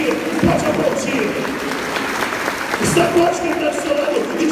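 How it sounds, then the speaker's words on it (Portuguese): A church congregation applauds during a sermon, a dense, continuous wash of clapping heard under a loud preacher's voice that carries over it the whole time. "Pode aplaudir, pode aplaudir, pode aplaudir."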